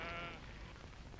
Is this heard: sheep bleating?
yes